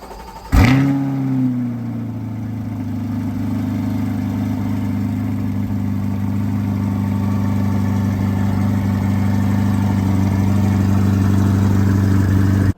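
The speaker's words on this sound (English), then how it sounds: "The next option is the performance exhaust, or the NPP exhaust" A 2022 Chevrolet Corvette C8 with the NPP performance exhaust starts with a sharp burst, then settles into a deep, steady exhaust rumble at idle, close and loud throughout.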